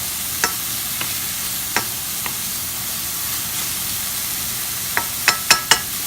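Meatloaf ingredients stirred in a pan over a steady low sizzle, with a handful of sharp scraping clicks of a utensil against the pan, sparse at first and bunching together near the end.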